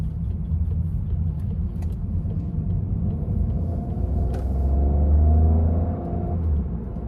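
An Opel Astra with a 1.2 litre 130 HP engine and EAT automatic transmission runs with a steady low rumble. The engine note rises briefly as the throttle is applied, then settles back.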